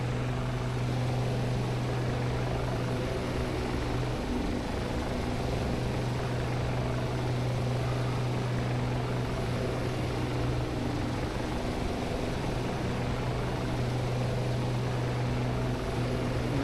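A heavily loaded S-64 heavy-lift helicopter in the Shergood flight simulator game drones with a steady rotor and turbine hum, a continuous low throbbing tone with strong engine whine, loud and unbroken for the whole stretch.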